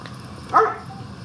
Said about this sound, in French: Fait que Jappé, c'est un bon chien.